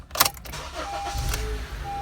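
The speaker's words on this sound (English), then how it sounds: "Then start your car with the key." A Honda CR-V or Civic started with the key, a short cranking burst that catches and settles into a steady low idle, close and alone without talking.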